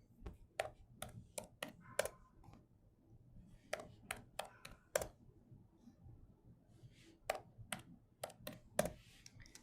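Keys on a computer keyboard are tapped in quick, irregular clusters of crisp clicks with short pauses, close and fairly quiet.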